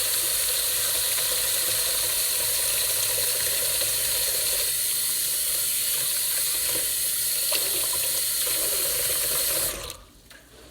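Tap water runs steadily into a kitchen sink while hands are washed, a loud, continuous close rush that cuts off abruptly near the end, leaving only a faint room tone.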